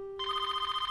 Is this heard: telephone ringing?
yes